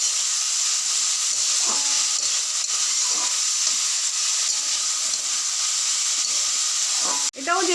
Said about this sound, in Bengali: এটাও যেহেতু ভাজা, এটার মধ্যে একটু জল ছিটিয়ে দিচ্ছি